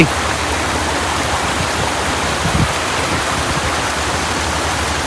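Heavy rain and rushing floodwater in Udupi district make a dense, continuous roar of water, steady and close, with a brief thump midway.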